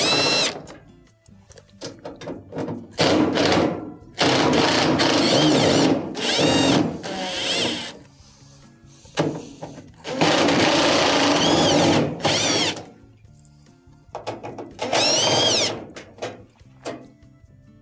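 Power drill backing Phillips screws out of the front panel of a GE dryer, several close, loud whirring bursts separated by short pauses and clunks.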